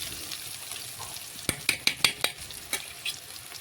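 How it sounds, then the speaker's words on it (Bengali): Salt being stirred into frying potatoes in a pan, with a steady sizzle throughout and a burst of sharp spatula scrapes and clanks against the pan in the second half. "লবণটা ভালোভাবে নাড়াচাড়া করে মিশিয়ে নিলাম।"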